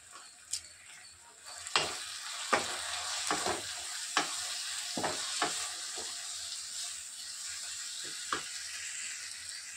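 Spice paste with chilli powder and turmeric fries in a pan and is stirred. A soft, steady sizzle runs throughout, broken by a handful of sharp scraping strokes spaced a second or two apart. Fairly quiet and close, with no talking.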